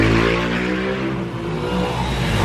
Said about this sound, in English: loud motorcycle.